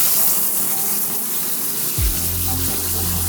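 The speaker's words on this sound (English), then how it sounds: "We'll turn the shower head sprayer on." A shower head sprayer hose is switched on and water rushes out with a steady hiss, joined partway through by a low, constant humming tone that holds to the end.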